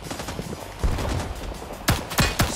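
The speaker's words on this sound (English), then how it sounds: "they're shooting down and spraying at the forest" Gunfire spraying into a forest in the video game Rising Storm 2 Vietnam, with a sharp shot early, then three loud close shots in quick succession near the end over a busy background of distant firing.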